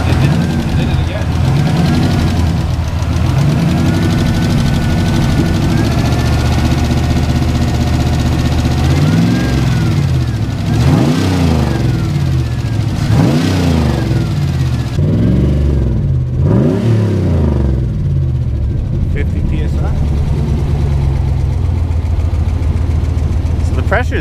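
A junkyard turbo LS engine with a persistent valvetrain tick, loud and close, idling and then revving repeatedly in rising and falling sweeps, with a steady rumble throughout.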